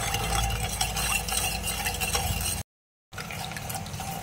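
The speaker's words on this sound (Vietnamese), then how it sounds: "Giờ mình sẽ khuấy đều lên." Sweetened coconut milk is stirred in a pot, producing a continuous soft liquid swishing up close. A brief dropout of total silence interrupts it before the stirring resumes.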